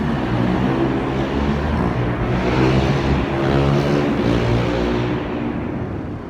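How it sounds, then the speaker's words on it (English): A loud motorbike engine rumbles and surges, rising and falling in pitch as it revs, with no talking. "that was the sound of a motorbike"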